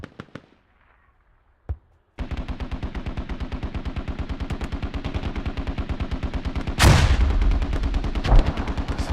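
In a competitive match of a Russian-themed shooter game, near silence and a single shot give way to a long rapid burst of automatic gunfire, loud and rhythmic, with a heavy grenade explosion blast partway through and firing continuing after it.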